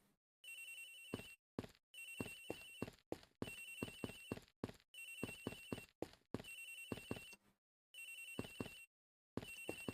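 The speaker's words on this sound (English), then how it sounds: "Agent Hicks' phone! It's ringing from somewhere, sir!" An old-style telephone in the game Ace Attorney Investigations rings in repeated bursts of bright electronic trilling separated by short silences, clear and alone with no talk.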